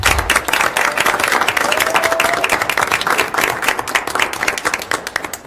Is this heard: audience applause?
yes